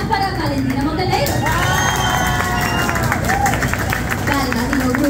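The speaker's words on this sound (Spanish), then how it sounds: "Palmas para Valentina Montenegro." A crowd at a drag competition show bursts into sustained clapping and cheering for contestant Valentina Montenegro, loud and continuous, with shouts and a voice rising above the applause.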